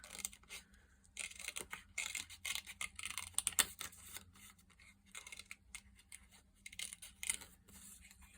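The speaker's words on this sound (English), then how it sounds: "Cut another layer out." Scissors snip through a paper card layer in short irregular bursts of close, quiet cutting and rustling at a papercraft table, with no talking.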